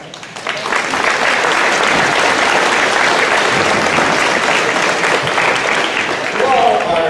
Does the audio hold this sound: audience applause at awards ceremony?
yes